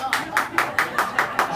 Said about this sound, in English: Clap if you've been in love.